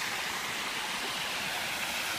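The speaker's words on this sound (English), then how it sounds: "it's a fairly powerful rush of water there." A powerful creek in the Philippines rushing down under a bridge, a steady, loud broadband roar of flowing water close by with no voices.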